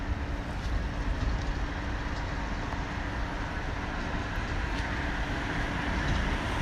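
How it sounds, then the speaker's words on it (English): A train rolls past near Norwich as a continuous, loud, broadband rumble that holds steady throughout without any talk. "Another one coming down, guys, so just going to keep quiet as we see this one pass through."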